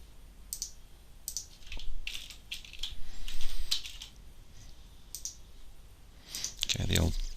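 Irregular bursts of clicky keyboard typing, close and crisp, with pauses between runs of keystrokes and a soft thump near the end.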